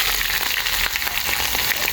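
Crushed garlic frying in a pan, a steady broadband sizzle holding close and even for the whole stretch, with a few faint stirring scrapes and no talking.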